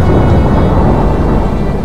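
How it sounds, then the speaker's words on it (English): A severe thunderstorm roars loud and close, heavy rain and rumbling thunder forming a dense, steady wash of sound with no voices. "A severe thunderstorm warning remains in effect."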